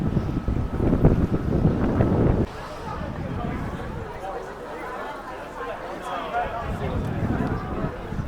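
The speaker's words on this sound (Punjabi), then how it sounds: "ਅੱਜ ਹਵਾ ਬਹੁਤ ਚੱਲਦੀ ਪਈ ਆ" Strong outdoor wind buffets the microphone in heavy low rumbling gusts, loudest in the first couple of seconds and then easing to a steadier rush, with someone talking over it.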